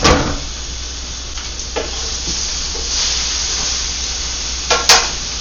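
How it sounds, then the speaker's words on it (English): Beef fries loudly in olive oil in a non-stick pan for a roast beef stew, giving a steady close hiss while a utensil stirs it, with a couple of brief scraping clatters near the end. "squirt it with some olive oil. And move it around"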